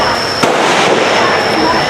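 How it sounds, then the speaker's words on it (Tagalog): Barrel firecrackers bursting on a busy street in Ho Chi Minh City, heard as a sharp loud pop among dense, constant crowd and traffic noise, with people talking throughout. "kung narinig niyo yung mga putok ng barrel kanina and ngayon, yan, malakas"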